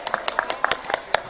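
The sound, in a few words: audience applause for the santri (Islamic students)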